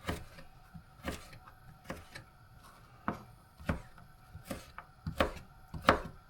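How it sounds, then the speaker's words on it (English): A knife chops beef tallow on a board, meant as grease for pike, giving about a dozen sharp, close thuds in an uneven rhythm against a quiet background. "chopping up the tallow so it will"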